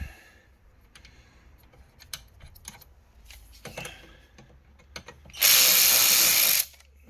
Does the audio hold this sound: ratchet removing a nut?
yes